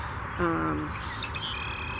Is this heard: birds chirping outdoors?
yes